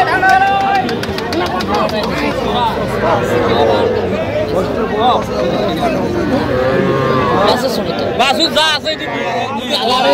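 A small red calf moos repeatedly amid a busy cattle market, loud and close over a background of crowd chatter and people talking.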